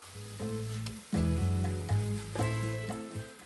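Cuban arroz con pollo a la chorrera with tomato sauce sizzles in a pan as it is stirred, the frying crackle swelling in uneven surges, loud and close with no talking.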